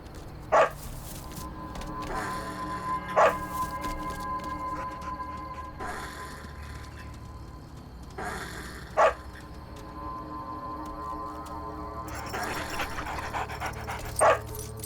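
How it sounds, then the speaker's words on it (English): Two boisterous off-leash dogs in a city park bark in short, sharp bursts separated by pauses, set against a steady outdoor background hum. "a couple of boisterous dogs spread fear among the possums"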